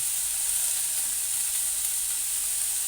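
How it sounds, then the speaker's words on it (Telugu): Green chillies and tomatoes sizzling in a pan for onion chutney, a steady bright frying hiss that stays even and continuous, with no voices over it. "పచ్చిమిర్చి, టమాటాలు ఇది ఒక 10 మినిట్స్ పడుతుందండి ఇవన్నీ వేగటానికి"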